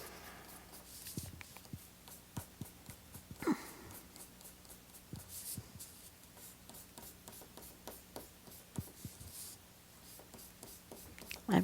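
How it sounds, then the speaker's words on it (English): Eraser rubbing across paper over a drawing, producing soft scratchy strokes in irregular bursts, close and fairly quiet, with occasional light taps and no talking. "I'm going to erase all of this"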